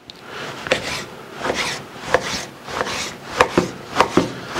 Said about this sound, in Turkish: Öncelikle etimizi makineden geçecek şekilde küçülteceğiz.